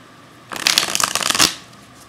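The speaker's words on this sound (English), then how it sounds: "Just give it a little bit of a shuffle here." A deck of tarot cards riffled in a single quick shuffle lasting about a second, a close, crisp flurry of fluttering snaps against a quiet room.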